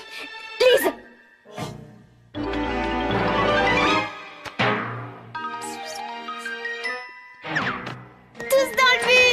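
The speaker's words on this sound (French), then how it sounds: "Il faut réparer cette sonnerie." A bell rings in an animated children's show, giving bright chiming dings and jingling tones in uneven bursts mixed with other cartoon sounds and voices.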